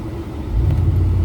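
A car driving on the road, heard from inside the cabin as a steady low engine and road rumble that swells slightly and holds, with no talking.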